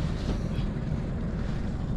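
A fishing boat's engine gives a steady low rumble out on the water, close and continuous, mixed with wind buffeting the microphone and some wash of water.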